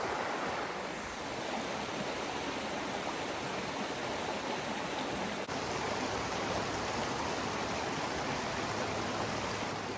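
A waterfall and creek rush steadily along a backpacking trail, a dense, even roar of water that fills the scene at constant loudness with no voices.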